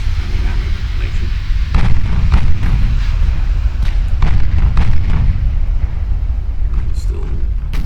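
Naval gunfire in the warship game Ultimate Admiral Dreadnoughts pounds a ship with a loud, irregular series of deep booms and blasts over a constant low rumble.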